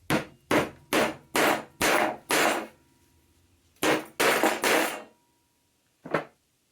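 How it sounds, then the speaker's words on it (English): Several sharp hammer strikes in quick bursts as a wood patch is hammered in, a pause, then more blows and one final tap, close and loud with no voices. "And now I'm going to hammer that in."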